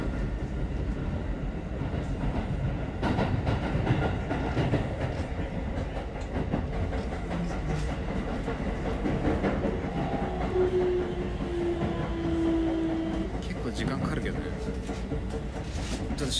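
A passenger train rolls along in a steady, constant rumble, with wheels clacking faintly and the carriage droning throughout, heard from inside the car.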